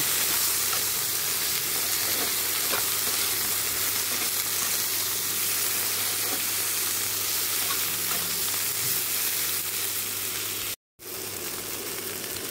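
Okra and potato pieces with turmeric fry in hot oil, giving a steady, dense sizzle that holds level throughout, broken only by a brief dropout near the end.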